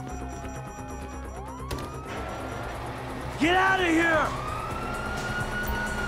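A police siren wails up close in a brief rising-and-falling burst over Grand Theft Auto V game engine noise, with a voice shouting over it.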